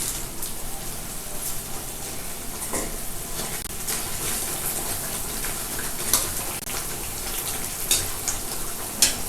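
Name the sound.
curry simmering in a pot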